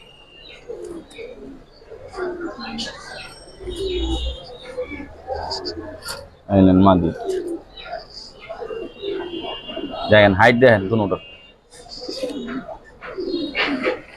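Giribaz and colouring pigeons in a rooftop loft in Lalbagh give soft, throaty coos and a few chirps nearby, while someone talks over them throughout.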